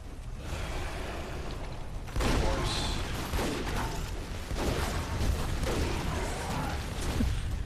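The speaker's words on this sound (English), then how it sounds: "I'm using, like, my machine gun on them now." Rapid machine gun bursts from Lara Croft and the Guardian of Light, coming in several dense clattering volleys over game effects, with people talking alongside.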